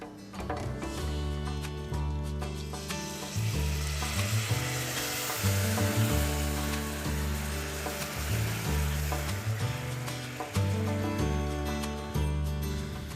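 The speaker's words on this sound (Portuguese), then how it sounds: "Eu estou adicionando aos poucos para a gente conseguir incorporar melhor o suco de limão." Hot caramel bubbles and sizzles steadily in a pan as lemon juice is poured in a little at a time, with a continuous close hiss and no talking.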